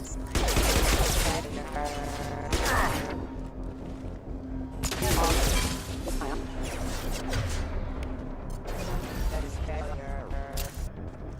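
Gunfire in the video game Mass Effect 2 rattles in heavy bursts of rapid shots, loud and close, with bangs and crashes between volleys and game dialogue heard among them.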